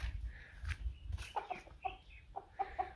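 Chickens clucking nearby in short, repeated bursts, with soft rustling and low background noise.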